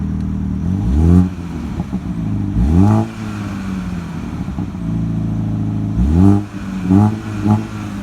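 A car engine idles and revs several times, each rev rising and falling sharply with crackling pops from the exhaust, loud and close.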